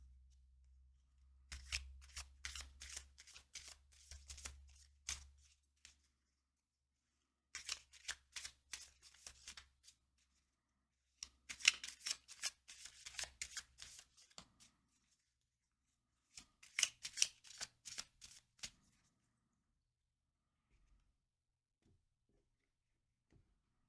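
Dark Crystal playing cards are shuffled in four separate bursts of rapid, crisp riffling, each lasting a few seconds with pauses between. The sound is quiet and close, over a faint low hum.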